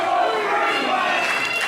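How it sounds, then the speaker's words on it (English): Dense wrestling crowd at a CTWE event chanting "Let's Go Frankie" for champion Frankie Arion, a loud sustained wash of massed voices with no clear gaps. "Now there's some "Let's Go Frankie" chants"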